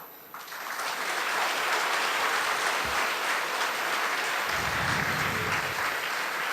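An audience at a Tamil poetry recital claps loudly and continuously, the dense applause rising quickly after a brief quiet start and staying strong throughout.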